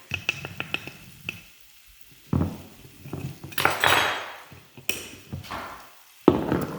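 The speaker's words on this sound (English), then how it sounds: "you're going to use your spatula to move that all around in that butter and the onion" A spatula scrapes and taps against a pan while flour is worked into butter and onion for tomato soup, irregular close clinks and scrapes with a quiet sizzle in the gaps.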